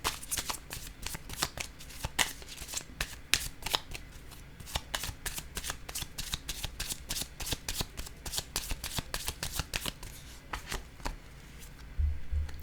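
A deck of pink cards is shuffled and drawn from in a long, rapid series of close riffling flutters and snaps, with a couple of louder taps near the end.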